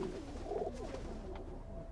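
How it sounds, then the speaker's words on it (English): Feral pigeons cooing inside a loft, soft low murmuring calls layered together in a steady, close stream with no talk over them. "There are 18 million feral pigeons in Britain, and they all need somewhere to live."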